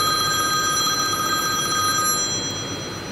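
A telephone rings loudly and continuously in a room, its electronic bell tone holding steady and fading slightly toward the end.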